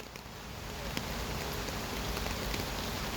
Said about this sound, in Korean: 비 많이 오잖아